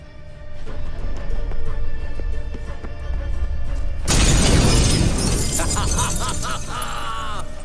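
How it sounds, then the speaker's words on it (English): A mirror shatters in The Witcher 3: a quiet stretch breaks into a loud, sudden burst of breaking glass, followed by tinkling and scattering fragments. "Gotta be some mirror here you won't shatter."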